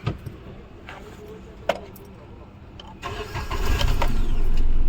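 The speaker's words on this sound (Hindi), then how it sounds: "और अभी करते हैं इंजन को स्टार्ट।" A Maruti Suzuki WagonR with a CNG misfire fault cranks and fires up after a few clicks and key jangles, settling into a steady, fairly close idle.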